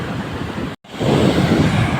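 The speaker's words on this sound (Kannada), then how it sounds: "ಇಲ್ಲಿ ನೀವು ಹಿಂದ್ಗಡೆ ನೋಡ್ತಾ ಇರ್ಬೋದು ಅರೇಬಿಯನ್ ಸಿ ಇದು" Arabian Sea waves wash onto the shore in a loud, steady roar with wind noise, broken by a brief silent dropout before the surf swells back in.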